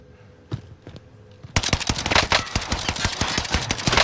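Gunfire in a video game: a couple of isolated shots come first, then a loud, dense burst of rapid automatic fire takes over and continues to the end.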